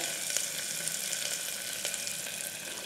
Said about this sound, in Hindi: जब तेल अच्छी तरह से गर्म हो जाए उसके बाद इसमें मैं डालूंगी 1 बड़ा साइज़ का प्याज